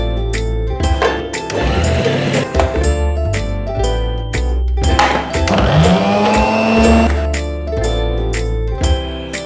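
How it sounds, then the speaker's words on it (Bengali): A kitchen mixer grinder whirs loudly up close while grinding soaked rice and urad dal, its motor whine rising and falling in spinning bursts with short pauses between runs. "এবার চাল ও ডাল জল ঝরিয়ে মিক্সিতে আলাদা আলাদা করে বেটে নিতে হবে"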